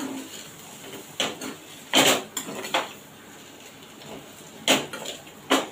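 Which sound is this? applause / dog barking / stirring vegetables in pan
stirring vegetables in pan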